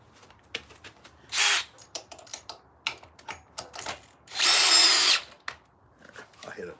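A power drill whines in two loud, close bursts into wood during chainsaw carving of a bear, with sharp knocks and clicks of handling scattered between them.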